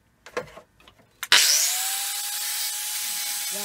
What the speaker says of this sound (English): take an angle grinder and to see if I get any sparks